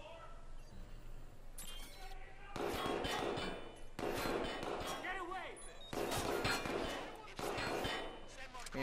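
Gunfire in the open-world video game Watch Dogs 2, a series of loud broadband shot bursts in irregular clusters over a steady game background, with a voice talking between and over the shots.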